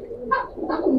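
Pigeons of a Giribaz breed cooing close up, two short throaty coos in about a second with light background noise.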